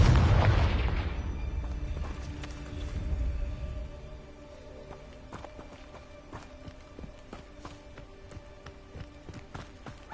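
A Confringo spell explosion in Hogwarts Legacy goes off with a loud opening boom that fades over a few seconds, followed by quiet game ambience and faint scattered clicks and footstep-like taps.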